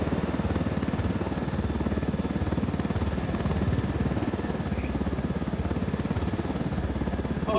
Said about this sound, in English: Supply choppers to help cartel crushing rebels?